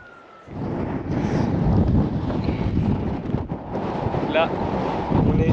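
Wind buffets the microphone on top of Wave Rock in Australia, a loud low rumbling roar that starts abruptly after a quiet moment and gusts steadily throughout, with faint voices beneath it.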